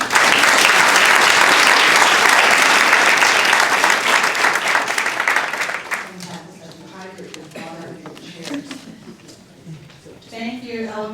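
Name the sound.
audience applause welcoming a panel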